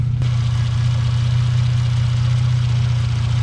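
A Hyundai Genesis Coupe engine idles steadily with a low, even rumble, unchanging throughout and with no voices.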